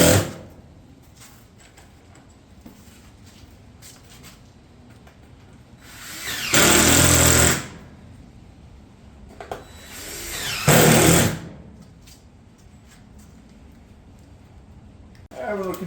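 A power tool drives fasteners through a roofing shingle panel on a roof, two loud bursts of a second or so each standing out over quiet background handling noise, with a voice talking at times.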